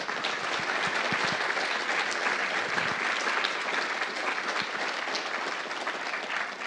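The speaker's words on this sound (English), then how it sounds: "Let's give him a round of applause" Applause from the crowd at an opening ceremony honouring Algonquin elders, a steady, dense round of clapping that holds at an even level from start to finish with no voices over it.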